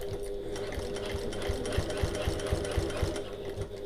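A sewing machine runs steadily, stitching a pocket in contrast fabric about 1/8 inch from the seam edge, giving a close, even whir with a fast rhythmic needle thump throughout.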